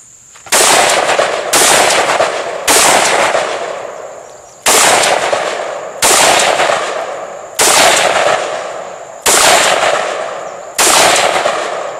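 A SIG 556 Patrol rifle fires eight loud, close single shots at irregular intervals of roughly one to two seconds, each sharp crack trailing into a long, decaying echo.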